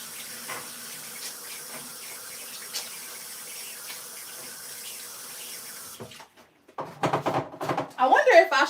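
Tap water runs into a kitchen sink for hand washing, at first a soft steady stream that turns into louder splashing and gushing near the end, alongside a voice.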